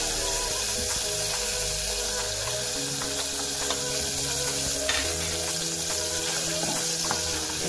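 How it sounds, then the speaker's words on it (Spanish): Chopped onion fries in butter in a pan with a steady, close sizzle, soft crackles and a few stirring scrapes, continuing evenly without speech. "Esto vamos a dejar que nuestra cebollita se nos ponga translúcida."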